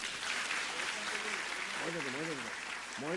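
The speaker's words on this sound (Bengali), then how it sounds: "সবাই একটু হাততালি দিন।" An audience applauds at a mission prize-giving, a steady wash of many hands clapping, with a voice cutting in over it toward the end.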